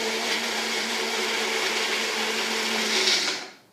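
Berries whirr in a blender, a loud, steady motor drone with a constant pitched hum that runs evenly for several seconds and then winds down abruptly at the end.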